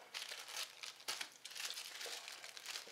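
Plastic parts bag from an RC4WD TrailFinder 2 trail truck kit crinkling and rustling close by as hands search through it, a quiet, continuous scratchy crackle with one sharper crunch.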